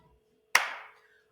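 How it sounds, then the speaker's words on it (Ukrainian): A single sharp clap of hands rings out close and clear in a quiet room, its short echo fading within half a second. "а ви плескайте в долоні, коли чуєте цей звук"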